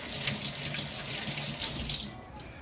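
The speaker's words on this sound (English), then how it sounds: "Let me rinse my knife off." Running tap water pours steadily over a knife being rinsed in a kitchen sink, a close, continuous splashing rush that cuts off near the end, with no talk.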